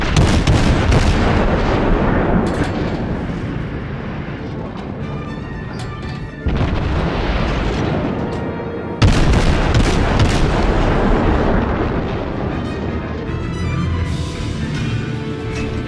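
Heavy naval gun salvos boom out repeatedly in the World of Warships game, loud deep blasts with rumbling tails, some distinct cracks standing out from the continuous roar of battle.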